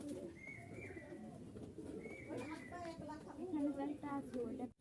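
Giribaz pigeons from Rajshahi, a pair of floor-colored birds, coo softly and repeatedly, a low bubbling murmur with a few chirps mixed in, heard close with some faint background voices.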